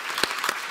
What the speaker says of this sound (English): A big round of applause to everybody